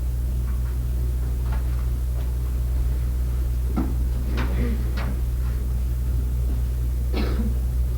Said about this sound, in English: I can hear people coughing and whispering.